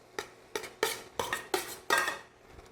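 Cooked rice is stirred into a pan of Cajun dirty rice, with six quick scraping, clattering strokes of a utensil against the pan at a fairly even rhythm, close and moderately quiet.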